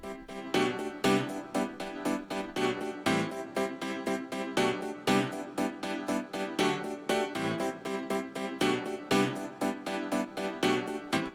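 Soft rock, yacht-rock-flavoured chord progression with full band accompaniment, smooth sustained chords over a steady pulsing beat, moderately quiet and continuous with no talking.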